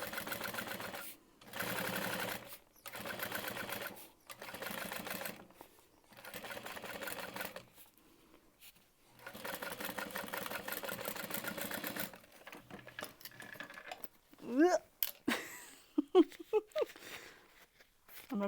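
A sewing machine stitches close along the piping of a crossbody bag in repeated whirring bursts with short pauses between, followed by some clicks and handling at the end; someone talks at times.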